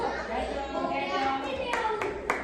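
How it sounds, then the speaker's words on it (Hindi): A group of children at a kids' workshop clap together in a steady burst of applause, with a few sharper claps standing out near the end, and voices murmuring underneath. "एक बार जोरदार ताली आप सबके लिए"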